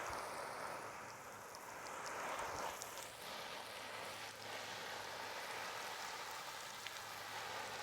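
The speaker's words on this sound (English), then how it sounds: "if you're shooting somewhere and it's raining this much" Heavy rain pours down outdoors, a steady dense hiss of drops pattering on surfaces and fabric, continuous and fairly near.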